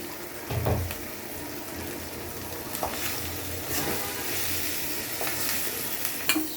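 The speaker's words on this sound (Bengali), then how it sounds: "আলুটাও দিয়ে দিব। আলুটা মানে এটার সাথে ভাজা ভাজা করব।" Potatoes fry with turmeric and salt in a pan, giving a steady sizzle with repeated scraping stirs of a spatula throughout.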